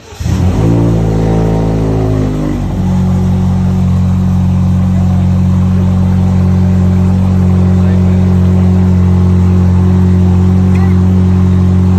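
A BMW car engine cranks and catches, its pitch rising sharply as it revs. It then settles into a loud, steady, close-up rumble that holds for several seconds.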